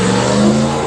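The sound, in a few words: IROC Camaro engine revving as it leaves the car show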